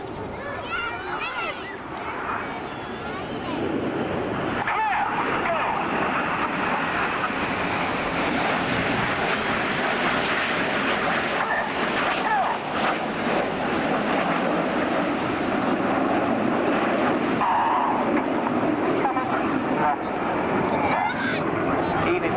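RAF Red Arrows jets flying synchronized rollbacks at an air show in Portrush, a sustained loud jet roar with distant crowd noise and a commentator talking over it.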